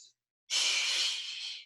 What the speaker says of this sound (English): Hands are behind the head. And big exhales.